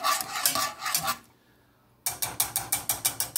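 Grits stirred in a pot for breakfast, a run of quick scraping strokes, a brief pause, then a steady rhythmic series of about eight sharp scrapes of spoon against pot, close and clear.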